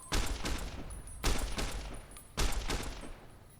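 Three rifle volleys at a shooting range in Fallout: New Vegas, each a loud burst of overlapping shots that rings out and fades, spaced about a second apart.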